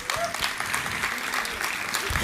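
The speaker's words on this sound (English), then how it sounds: "Can we have a big round of applause for them?" An audience at a sustainability startup competition finale at a college claps together in a dense, sustained round of applause that fills the hall for a couple of seconds.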